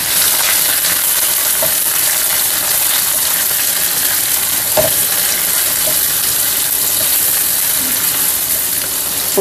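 Onions sizzle steadily in hot oil with fenugreek seeds, green chilli and curry leaves, a dense continuous frying hiss with occasional soft stirring clinks.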